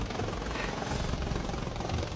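Helicopter rotor and engine roar, loud and steady, filling the whole moment without a break, as an aircraft arrives near a school.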